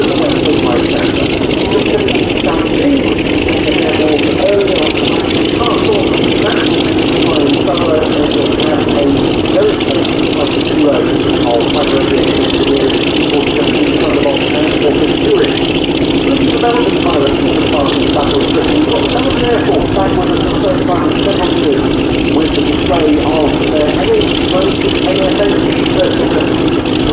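At the Duxford Battle of Britain air show, P-51 Mustang piston engines drone steadily and loudly for nearly half a minute, a continuous propeller-aircraft roar blending with crowd and wind noise.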